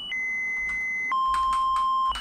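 Loud, steady electronic beeps from the soundtrack of the forest horror game Alone in the Forest: one sustained tone shifts to a lower one, with soft clatter beneath.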